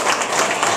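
Audience at a bar applauding and cheering: a dense, steady wash of clapping and crowd noise that fills the whole short moment with no pauses.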